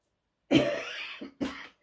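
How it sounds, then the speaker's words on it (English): Two harsh coughs close to the mic, a long rasping one followed by a shorter one after a brief pause. "I've got a dreadful cough at the moment."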